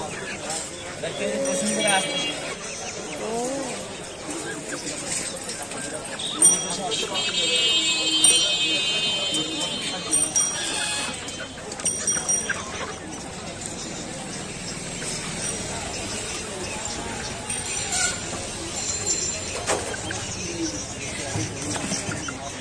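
Chickens cluck and birds call in a busy poultry market selling chickens and ducks, with people talking throughout over a steady crowd murmur.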